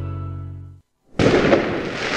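Fireworks and firecrackers at a street festival: a dense, loud, continuous crackle of rapid bangs that starts abruptly after a tone and a moment of silence.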